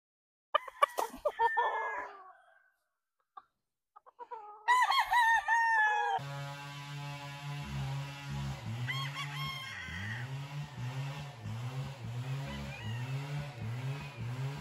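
Six-month-old Sweater Boston Roundhead stag roosters crowing in several loud bursts, first with gaps and then in a dense overlapping run, while a steady engine hum drones underneath.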